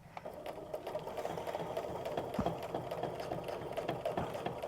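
Long-arm quilting sewing machine stitching during straight-line ruler work, a steady quiet mechanical whir with fast even ticking and a faint rattle running throughout, with no talking.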